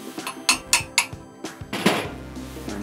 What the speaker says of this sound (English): you might have to tap it in with a hammer